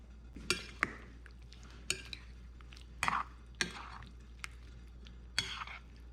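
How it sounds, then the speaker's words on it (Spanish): Sauce is mixed into meat in a bowl for Honduran montucas, with wet squelching stirs and several sharp spoon knocks against the bowl at irregular intervals, fairly quiet and close. "Ahora mezclamos la salsa con la carne."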